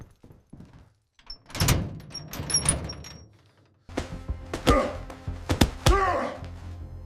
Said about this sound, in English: Door breached.